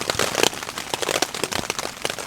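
Rain drumming on a cheap hot tent during an overnight downpour, close and loud, with dense irregular patters and sharper drips hitting the fabric.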